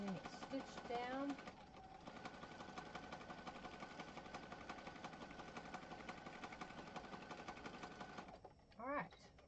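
A sewing machine stitches down a paper page for a pink junk journal, a steady mechanical whirring drone that runs for most of the stretch, with brief voice sounds at the start and near the end.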